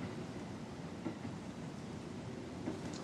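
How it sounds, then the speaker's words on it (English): A train in a horror video game rumbles past in a dense, steady broadband roar with faint clacking of the wheels, loud and continuous throughout, with no talking. "I'm waiting for the train. I'm waiting for it to go."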